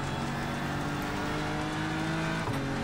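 Race car losing grip and sliding on a wet track in the iRacing sim, a steady loud engine drone with a brief pitch dip near the end as the car slides.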